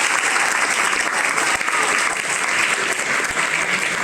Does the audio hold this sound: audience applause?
yes